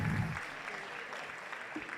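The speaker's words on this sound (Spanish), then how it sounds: "por supuesto un fuerte aplauso" Quiet applause from a conference audience welcoming a speaker at a social economy event, a soft, even patter of clapping, fairly distant, with a low rumble at the start.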